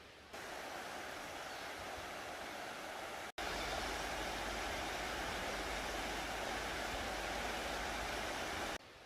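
River water rushes steadily beside a trail on a bike tour, a loud, continuous broadband roar that drops out briefly partway through and otherwise runs unbroken with no voices.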